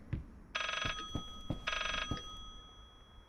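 An old-style telephone bell rings in two bursts inside the horror game Layers of Fear, heard faintly among hollow footsteps and knocks.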